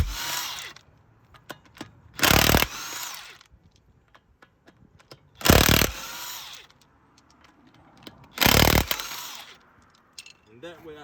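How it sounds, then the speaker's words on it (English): Three loud bursts of an impact wrench spinning off 17mm wheel studs from a 2016 Volkswagen Jetta SE front wheel, each about half a second long and spaced a few seconds apart, with quiet shop clatter in between. "17mm socket and impact wrench to remove the tire"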